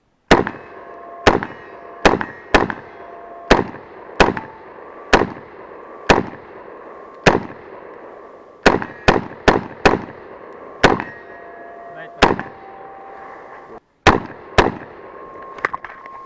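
A rifle fitted with an Aimpoint sight fires at night, with sharp loud shots coming one at a time or in quick doubles and triples over about sixteen seconds, each followed by a short ringing decay.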